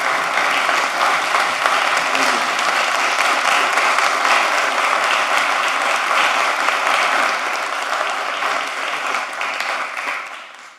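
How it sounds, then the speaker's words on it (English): A large crowd at a commission meeting applauds enthusiastically, standing, a thick sustained wash of clapping that holds steady for several seconds, then fades out at the end. "he deserves a big round of applause"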